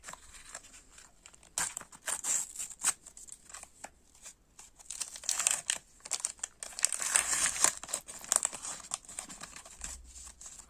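A World Cup 2010 sticker pack wrapper is crinkled and torn open close up, with irregular rustling and crackling bursts that grow busier toward the end.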